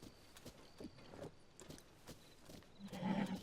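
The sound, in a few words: horses in the video game Zelda: Tears of the Kingdom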